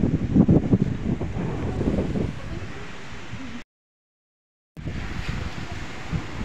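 Wind blowing at a seaside spot buffets the microphone with low rumbling gusts, mixed with a wash that sounds like surf. A voice is heard early on, and there is a brief dropout midway before the wind resumes.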